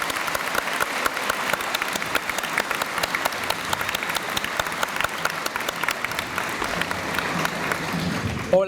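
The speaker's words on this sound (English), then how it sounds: "Let's give them a round of applause." Audience at a 2017 8th grade promotion ceremony applauds the graduating class, a dense, steady wash of many hands clapping that holds loud throughout and fades slightly near the end.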